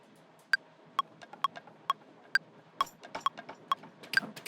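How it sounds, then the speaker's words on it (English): In a bass remix music project, a crisp metronome clicks at a steady, even pulse. A quiet percussion loop with break drums joins in, adding busier, syncopated hits between the clicks. "So if I play with the metronome"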